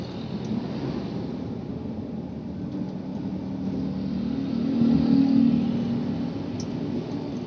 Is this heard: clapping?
no